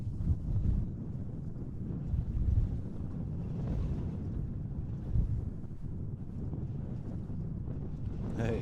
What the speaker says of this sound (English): We're still battling the winds here.